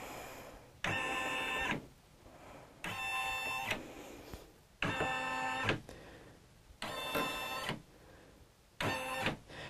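A home embroidery machine stitches a 3-inch monogram frame on a baby onesie clamped in its hoop with binder clips. It runs in five regular bursts of buzzing, whirring mechanical motion, each about a second long, with short quieter pauses between them and no talk.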